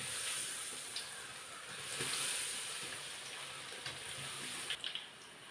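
Jackfruit chips frying in hot oil, a steady broadband sizzle and hiss that holds evenly throughout with a few small pops near the end, close and fairly soft.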